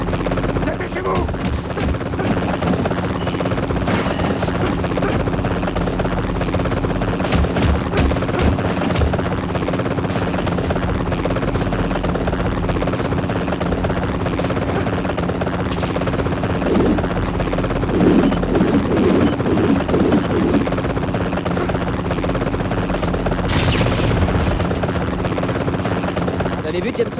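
A helicopter in the Spider-Man 3 PSP video game keeps up a steady rotor drone throughout, with bursts of gunfire and game action over it and a voice speaking at moments.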